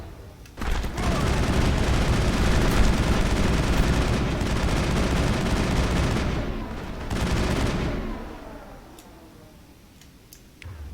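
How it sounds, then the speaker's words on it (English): Sniper rifle fire in Mass Effect on Feros, a dense burst of loud gunfire and impacts lasting several seconds, a short pause, another blast, then scattered faint clicks as it dies away. "They are using their sniper rifle."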